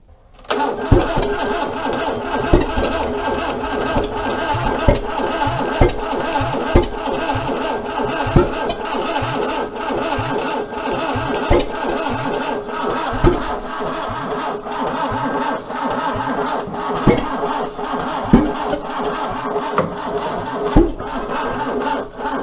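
A 1982 Renault Trafic engine, unused for 23 years, cranks on and on with the choke pulled low and the throttle worked, a long, rhythmic churning starter drone with occasional louder catches, faint talk beneath.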